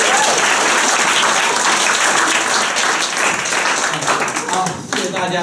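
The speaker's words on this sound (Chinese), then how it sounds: "掌声给自己鼓励鼓励。" Audience applause at a live talk event after a clap-along with chanting, loud and sustained clapping from a crowd for several seconds, thinning near the end as a voice starts speaking.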